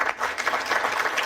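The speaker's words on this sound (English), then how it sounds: "if we could give a round of applause for him" An audience claps in a short burst of applause at a community history night, many hands at once in a dense, even patter at moderate loudness.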